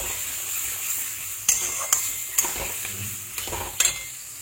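Onions frying with garlic paste in a pan for a Bengali chicken curry, a steady bright sizzle broken by several sharp stirring scrapes of a spoon against the pan.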